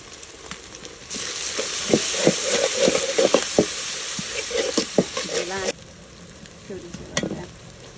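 Ginger garlic paste and onions hit hot oil with buffalo meat in a pot on a clay stove, bursting into a loud, close sizzle with stirring scrapes and clatters that fade back to quieter frying.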